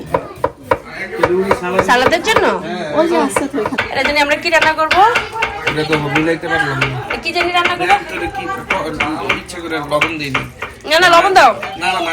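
Tomatoes are being chopped for a salad in a home kitchen. Knife taps on a board mix with clinks of dishes and utensils under nearly continuous nearby talk.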